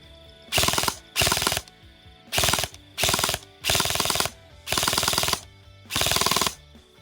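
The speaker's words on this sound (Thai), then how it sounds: "ทำไมมันขึ้นเสียงนี้นะครับ เพราะว่ากระสุนขึ้นไม่ทันนั่นเอง" Repeated short bursts of mechanical ratcheting from an MK18 airsoft rifle gearbox cycling without feeding ammo, seven bursts in a row with brief gaps, loud and close.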